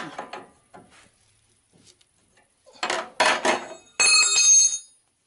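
A wrench tightening front suspension parts on a torsion-bar car, the upper control arm among them: a few sparse metallic clicks and knocks, then louder bursts of ratcheting and clinking metal close by, with no talking.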